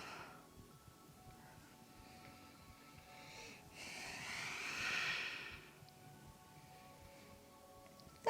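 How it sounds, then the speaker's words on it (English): Slow, soft exhalation during a posture-correction exercise, a faint breathy rush that swells for about two seconds midway and fades, heard close in a quiet room. "and exhale"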